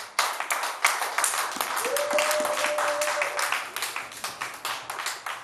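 Church congregation applauding in a steady burst of many hands, fairly close and lively, with a brief sustained tone and some voices underneath, tapering into rhythmic claps near the end.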